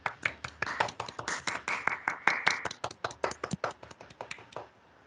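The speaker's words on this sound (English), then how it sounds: "Can we please give them a clap?" Young children clap at a school assembly, a quick, uneven patter of separate claps from a small group that thins out and stops after about four and a half seconds.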